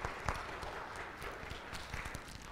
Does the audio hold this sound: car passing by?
no